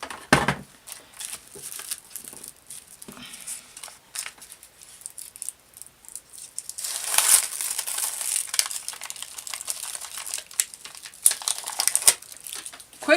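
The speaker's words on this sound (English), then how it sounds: "I'm going to put my base through my sticker maker" Paper base fed through a sticker maker, soft crinkling and rustling of paper with intermittent louder crackles and faint mechanical rubbing, close and fairly quiet, no voice.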